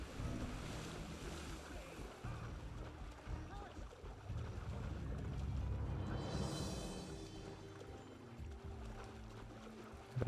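Water in an Assassin's Creed game: a broad, continuous wash of waves and wind, moderately loud and steady throughout, with no talk.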